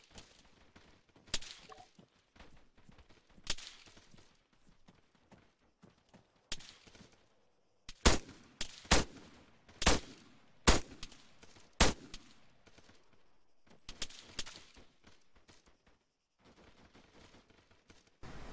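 Airsoft guns firing during an outdoor skirmish game, with a string of sharp single cracks and short bursts, some close and loud and others farther off, separated by quiet gaps.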